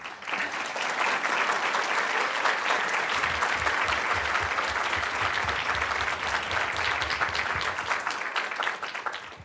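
A conference audience at a plenary session breaks into a big round of applause, dense clapping from many people that swells in the first seconds and holds steady, with some low thumps under it.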